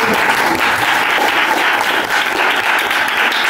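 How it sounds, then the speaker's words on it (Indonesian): Loud, dense applause from a group at a school workshop session, continuous and even with no clear gaps, many hands clapping at once from close by. "Tepuk tangan."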